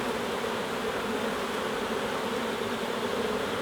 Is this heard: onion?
no